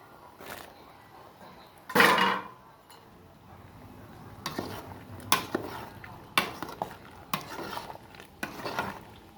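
A spoon stirring a pot of mushroom curry with bamboo shoots, giving scattered scraping and clinking knocks against the pot, with a louder clatter early on and quieter stirring in between.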